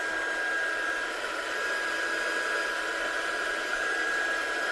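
A hair dryer blows steadily close by while drying decal ink, a constant airy whoosh with a thin whine and no pauses.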